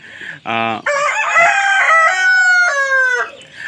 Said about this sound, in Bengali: আমি জানি একটু নয়েজ হচ্ছে, মুরগি সবসময় এরকম করে, মোরগ এরকম করে।